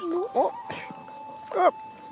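A wolf pup gives several short, high whimpers and whines close by. Soft human voices and breathy sounds are mixed in with them during a close encounter with the wolves.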